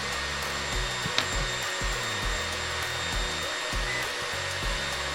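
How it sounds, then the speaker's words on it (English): Electric saw motor running steadily with a constant whine and small rhythmic fluctuations, heard close and alone without voices. "We're gonna go turn the saw on."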